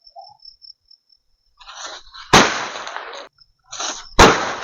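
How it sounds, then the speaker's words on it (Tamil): Small bijili firecrackers fizz briefly for Diwali, then burst with two sharp, loud bangs a couple of seconds apart, with faint crackling between. "ஸோ பிஜிலி நல்லா வெடியுது."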